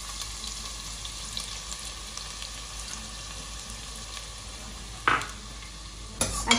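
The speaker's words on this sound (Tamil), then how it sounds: "ஒரு பெரிய சைஸ் வெங்காயத்தை பொடியாக நறுக்கி எடுத்து வச்சுருக்கேன், அதை சேர்த்துக்கோங்க." Finely chopped onion frying in hot oil with fennel seeds and kalpasi, a steady close sizzle with a couple of sharp stirring clatters toward the end.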